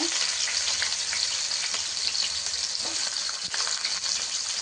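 Sliced garlic, fine ginger pieces and onion fry in hot oil in a pan for veg manchurian, giving a steady loud sizzle with a few soft stirring knocks and no talk.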